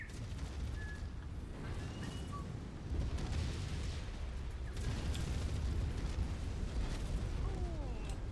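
An enemy mech exploding in the video game MechWarrior 5: Mercenaries, a sustained loud rumbling blast with crackling debris that swells midway and keeps roaring to the end.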